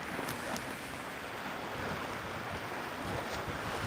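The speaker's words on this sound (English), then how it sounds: "The winds are really kicking up." Tropical storm Nicole's wind and surf at a seawall in Saint Augustine, Florida: a constant loud roar of gusting wind and crashing water, with wind buffeting the microphone and no talk.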